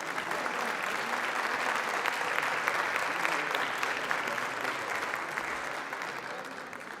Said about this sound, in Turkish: Çok teşekkürler güzel alkışlarınız için.